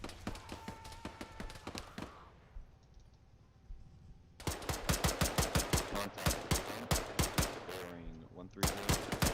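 Rapid bursts of automatic gunfire crack in fast repeated volleys during an air assault training exercise, loud and close, with a brief lull and a voice speaking over radio between bursts.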